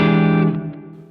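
A guitar chord played through a Cornerstone Aquarium univibe pedal with the mix at 0 rings out loud and close, decaying steadily over about a second with no audible modulation.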